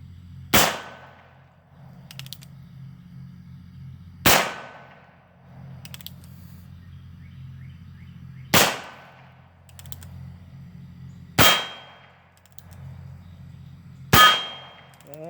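Five sharp shots from a Heritage Rough Rider revolver firing .22 long rifle rounds, each a loud crack with a ringing tail, spaced a few seconds apart over a low steady background hum outdoors.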